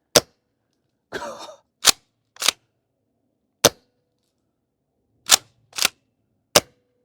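Airsoft KSG shotgun firing tracer BB shells, about seven sharp, close, isolated pops at irregular intervals with quiet gaps between, plus a brief rattling handling noise between the first shots.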